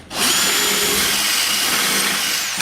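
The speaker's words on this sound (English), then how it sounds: "use a self-centering bit to go through the collet and find the center so I can drill the hole" A power drill with a self-centering bit bores into a collet, starting abruptly and running as a loud, steady, high whine close up for over two seconds with no talk.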